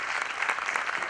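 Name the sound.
applause for event organisers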